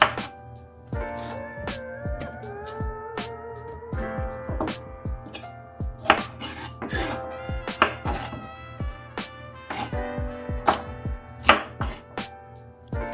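A knife chops bell pepper and onion into fairly large pieces on a cutting board, producing sharp, close thunks in uneven bursts, some rapid and some spaced out, over faint background music, with no talking.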